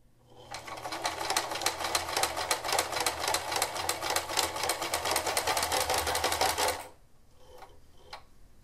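A sewing machine stitches a second line around the outside of a fabric juggling ball, a close, loud, rapid mechanical chatter lasting about six seconds before it stops, followed by a few faint clicks.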